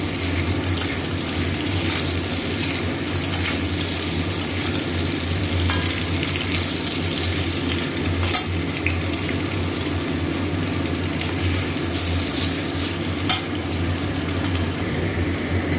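Two small unpeeled potatoes fry with a little salt in a pan, giving an even, steady sizzle with soft crackles and a low hum underneath, heard close and uninterrupted for about sixteen seconds without talk.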